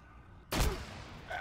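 A fragmentation grenade in the military game Arma 3 goes off once as a sudden loud, close blast with a deep low thump, then a ringing, noisy tail that slowly fades.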